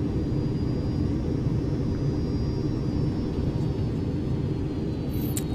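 Twin jet engines of a Fouga Magister in a flight simulator game, a loud, steady, unbroken roar dominated by low rumble for the whole stretch.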